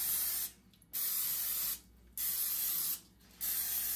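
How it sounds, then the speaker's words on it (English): Olive oil cooking spray is sprayed onto muffin pans in three hissing bursts, each about half a second to a second long, close up and separated by brief quiet gaps. "it calls for, you got to spray your pans."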